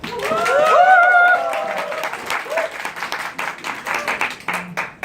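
Audience clapping at a Korean studio show, heard beneath loud overlapping speech and music-like tones in the first seconds, then scattered claps continuing under a talking voice.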